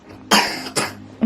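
Two sharp, close coughs in quick succession, followed by the start of a third.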